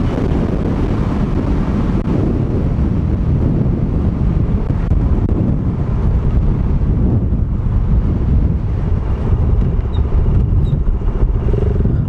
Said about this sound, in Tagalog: Talagang mahina na tong motor natin.